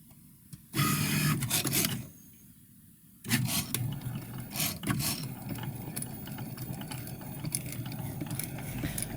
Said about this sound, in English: there's a tiny weeny little tangential blade that's spinning around and cutting out the shape ever so efficiently